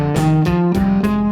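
Electric guitar runs through a quick scale warm-up exercise, loud and close, with sustained harmonic notes and regular note attacks about every third of a second, no voice.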